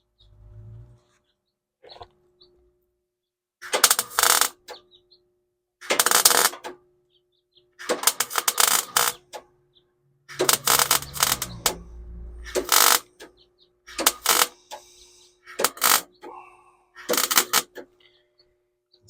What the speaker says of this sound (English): I'm going to fill in the weld all the way around.